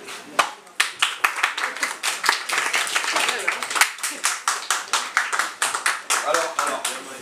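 Rhythmic clapping from a small audience at a French micro-conference, loud hand claps falling into a regular steady beat that runs for several seconds.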